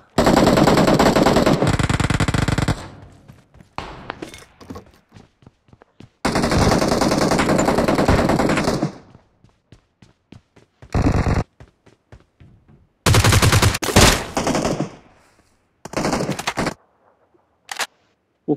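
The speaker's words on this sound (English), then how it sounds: "I'm going to shoot a gun now." Automatic gunfire in the mobile battle game PUBG Mobile, loud long bursts of rapid shots broken by single cracks and short gaps, with near, sharp reports dominating the whole stretch.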